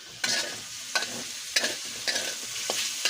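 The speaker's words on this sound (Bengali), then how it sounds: "এই যে আমি তেল দিয়ে দিলাম তেলে একটু ভেজে নেব আলুগুলো" Potato pieces frying in hot oil in a home kitchen, with a sharp clatter of stirring every half second or so over a steady background sizzle, close and fairly loud, no talking.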